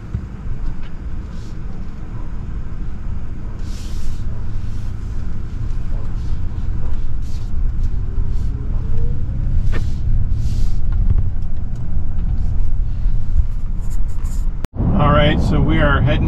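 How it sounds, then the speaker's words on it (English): Ford F-150 Lightning Platinum electric truck on the road, a steady low rumble of tires and cabin noise heard from inside, with a sharp click near the end followed by a brief chime-like tone. "So we are heading out to Slim Creek in this F-150 Lightning electric truck."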